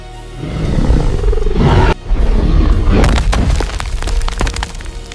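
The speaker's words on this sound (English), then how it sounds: "The bellow is a shockwave of sound, a promise of violence." A Maiasaura dinosaur bellow effect roars out loud and close, a deep, booming, continuous growl with a heavy low rumble, briefly cut off and then resumed with rough, crackling texture.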